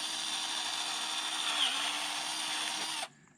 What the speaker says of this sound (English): I'll drill it out.